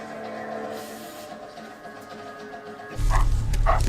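Dog barking in a scene from The Walking Dead, set against a steady tonal background, with a louder burst of low rumble and short sharp sounds near the end.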